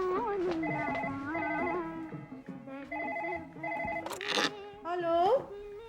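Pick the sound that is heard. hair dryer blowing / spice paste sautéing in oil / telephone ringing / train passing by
telephone ringing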